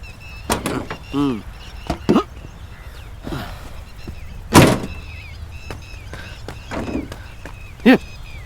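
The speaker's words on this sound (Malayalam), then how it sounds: "ഡോർ തുറക്കടാ." A car door is opened with a few dull clunks and a sharper latch thud amid scattered knocks and shuffling, while people speak briefly nearby.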